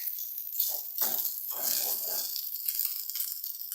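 Shrimp fried rice sizzles in a well-seasoned pan as it is stirred almost constantly, a steady hiss broken by scraping bursts of stirring at moderate volume, without talking.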